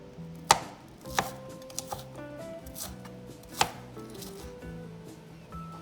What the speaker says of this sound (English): And the majority of the scallions, we're gonna shred it.